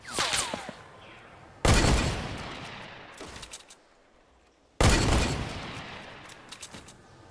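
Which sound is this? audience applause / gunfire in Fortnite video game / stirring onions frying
gunfire in Fortnite video game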